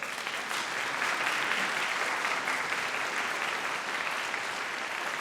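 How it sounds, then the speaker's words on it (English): A graduation audience honoring new teacher-training graduates breaks into sustained applause, a dense and even wash of clapping from a large crowd that holds steady for several seconds. "give yourselves a big round of applause"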